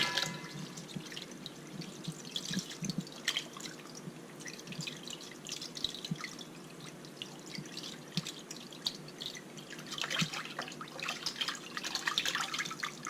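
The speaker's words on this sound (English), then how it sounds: "And now we're going to give it one last rinse." A kitchen tap runs while a fish is rinsed under it, giving a continuous splashing trickle with irregular drips and spatters that swell louder near the end.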